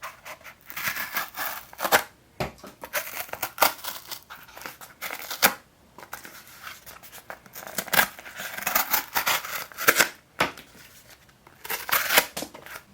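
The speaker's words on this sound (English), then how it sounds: "Quick little cut test here on some cardboard." A black titanium pocket knife slicing through cardboard, with repeated scratchy cutting and crinkling strokes up close, broken by brief pauses and no talking.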